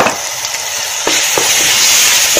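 Ginger-garlic paste fries for a tomato gravy in a loud, dense, continuous sizzle heard up close, with a few brief stirring clicks and scrapes cutting through and no speech.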